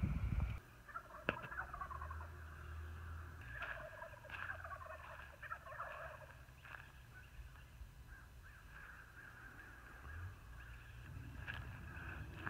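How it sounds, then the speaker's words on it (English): Turkeys gobble in several bursts at a moderate distance over a quiet outdoor background, with an occasional low rumble. "Listening to our friendly turkeys."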